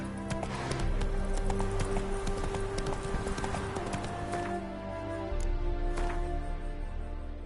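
Hooves of a ridden horse gallop in a steady, rapid clip-clop rhythm from The Witcher 3: Hearts of Stone on PS5, loud and close, with a brief whinny and game music underneath and no talking.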